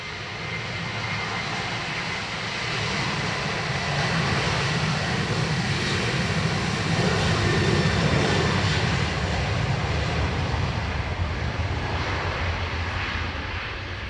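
Airliner jet engines roar continuously at Dublin Airport on a busy Friday near runway 10 right. The roar is loud and steady, swelling slightly in the middle.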